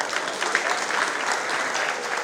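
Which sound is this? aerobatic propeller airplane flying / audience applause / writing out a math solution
audience applause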